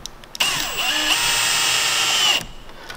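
A power drill drives a screw into a Sprinter van roof during a roof fan install, a loud whining burst of about two seconds whose pitch sags as the screw meets resistance, then stops abruptly.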